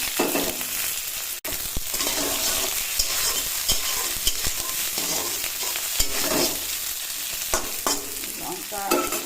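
Two fish pieces and green chillies fry in hot oil, a loud crackling sizzle with frequent stirring scrapes and spatula knocks throughout.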